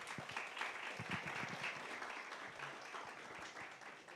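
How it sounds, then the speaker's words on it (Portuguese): Lively applause from a crowd, sustained clapping at a fairly even level that tapers slightly toward the end. "Williams Bin, da Climatempo, por favor, uma salva de palmas para ele."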